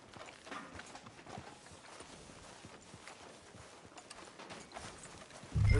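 Horse hooves clip-clopping at a walk on a street in Red Dead Redemption 2, soft, fairly faint steady footfalls over background ambience, ending with a sudden louder thump.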